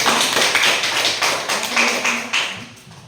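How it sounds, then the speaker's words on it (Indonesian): Classroom applause for classmates after a student presentation: a brief run of scattered, fairly loud hand claps and taps from a group, uneven and slightly choppy, with no talking over it. "berikan aplaus kepada teman-teman"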